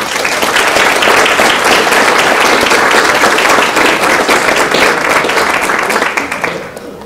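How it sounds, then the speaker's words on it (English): Loud, sustained audience applause for the organizers at a WoodmenLife honors event, thick clapping from a large crowd that holds steady, then thins and fades in the last second. "And I'd like to give them all a round of applause,"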